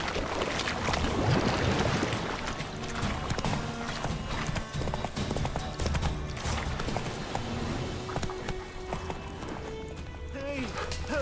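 Roach, a horse in The Witcher 3, trots with a brisk, steady clip-clop of hooves, layered over busy in-game ambience with faint voices.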